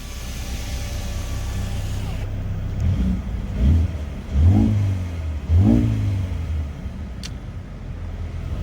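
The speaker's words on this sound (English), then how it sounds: "Let's go ahead and see how it sounds. So I'm going to drop it into Sport Plus." A 2020 Mercedes-AMG A35 engine in Sport Plus mode idles, then gives three sharp, close revs that rise and fall in quick succession before settling back to a steady idle.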